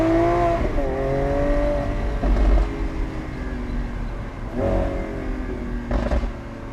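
Lamborghini Aventador SVJ Roadster with its single-clutch ISR gearbox, the engine revving hard up through the gears. Abrupt, brutal upshifts break the loud, close roar several times.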